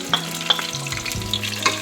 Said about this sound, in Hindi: चॉप किया हुआ प्याज डालेंगे